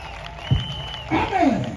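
A church congregation at an outdoor service on an esplanade breaks into a short swell of clapping and crowd noise, rising in the second half over a lingering voice and a sustained tone.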